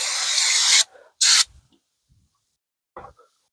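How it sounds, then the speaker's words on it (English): Carburetor cleaner sprayed from an aerosol can onto a Ford oil bath air cleaner: two loud hissing bursts, one long and one short, followed by quiet dripping and faint clicks. "Blast it clean with a little carb cleaner."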